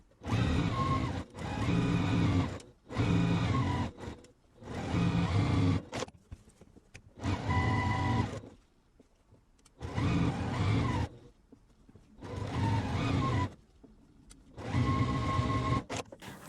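Sewing machine stitching a beginner quilt block, running in about seven bursts of one to two seconds each with short quiet pauses between, close and steady with no talking.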